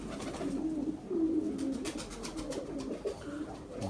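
Pigeons coo in soft, low, repeated bursts at a modest distance, faint against background noise, with no voices.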